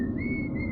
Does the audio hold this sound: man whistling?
yes